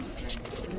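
Doves cooing at a regional bird-calling competition, a continuous dense chorus of low coos with some speech mixed in.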